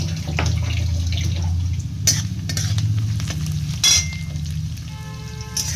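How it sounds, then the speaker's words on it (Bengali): Onions frying in a pan on a gas stove, with ground spices mixed in water about to be added: a continuous close sizzle with occasional sharp stirring scrapes and clinks, no voices. "পেঁয়াজটাকে বাদামি রং করে ভেজে নেব।"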